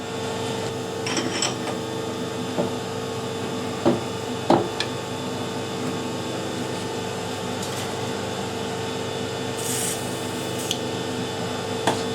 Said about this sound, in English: I've got a 9/16 drill here, put that through